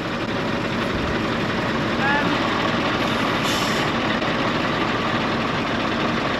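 A truck engine idles steadily in the background with a constant low rumble throughout, while people talk over it.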